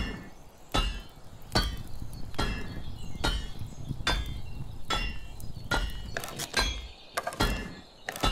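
Repeated hammer blows strike at a steady pace while two hammers are being crafted in the medieval survival game Medieval Dynasty, each hit a sharp close thunk with a ringing tail and a quicker cluster of strikes near the end.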